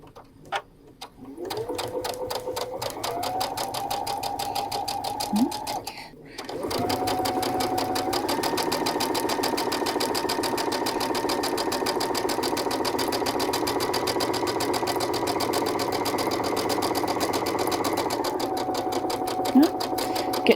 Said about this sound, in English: So now I'm going to sew my 1/4-inch seam.